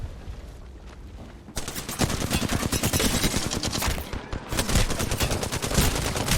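Rapid gunfire in the Apex Legends video game, dense bursts of automatic shots and blasts starting after a quiet moment and continuing loud and nearly unbroken, with a brief dip midway.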